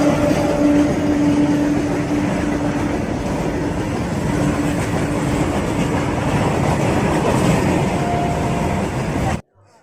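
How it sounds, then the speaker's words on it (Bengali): A train pulling into a railway station, a loud, steady rumble of wheels and carriages with a faint clatter and an occasional tonal whine, cutting off abruptly at the end. "এদিকে একটা ট্রেন ঢুকে গেছে"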